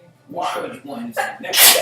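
A single short sneeze bursts out near the end, close and loud, right after a man's brief spoken line during a tabletop game session.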